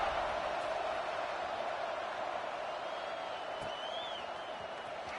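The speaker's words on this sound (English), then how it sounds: "this crowd is buzzing after that last score" Stadium crowd at an LSU versus Arizona State football game buzzing after a score, a steady dense roar of many voices filling the whole stretch, with a faint whistle-like tone rising briefly near the end.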